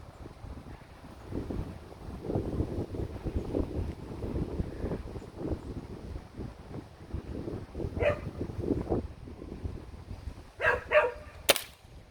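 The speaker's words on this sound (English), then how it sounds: "Oh, here comes the wind again. Strong as ever." Strong, gusty wind buffets the microphone outdoors during a session shooting a Crosman F4 pellet rifle: a continuous low rumble that swells and fades, with a few sharp knocks near the end.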